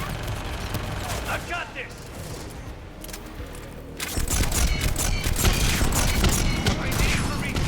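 Sustained automatic gunfire from a gunship in the video game Mass Effect 3, dense rapid bursts that swell louder midway, with characters shouting over the barrage.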